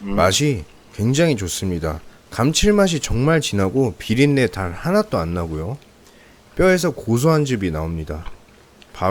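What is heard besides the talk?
No distinct noise like a dog, phone or traffic.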